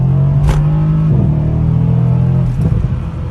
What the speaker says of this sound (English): Oh God, I do love that sound of that engine though.